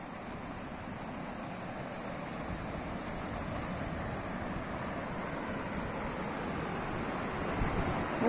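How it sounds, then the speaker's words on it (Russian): A strong river current, swollen after rains, rushes in a continuous broadband roar with wind noise on the microphone, steady and close, with no voices. "Во, какое течение."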